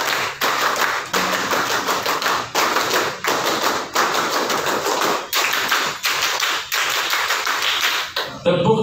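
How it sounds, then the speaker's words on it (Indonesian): Scout-style clapping in an Indonesian group setting: repeated sharp hand claps in steady groups, loud and close, with brief pauses between each cluster and no talking. "Tiga kali tepuk pramuka"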